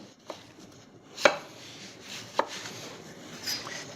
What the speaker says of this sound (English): just paying attention and slicing them thin like this with the knife will do